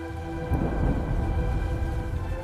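On a dark, rainy night a steady hiss of heavy rain fills the air while a deep, low roll of thunder rumbles underneath, swelling briefly partway through.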